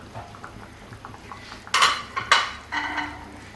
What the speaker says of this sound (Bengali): এবার আমি কেটে রাখা কাঁকরোলগুলো মাংসের সাথে দিয়ে দেব